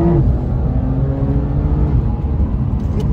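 Loud, steady drone of a Porsche 911 Carrera S engine, rated at 450 horsepower, under way while driving, holding a smooth, even pitch for several seconds with no talk.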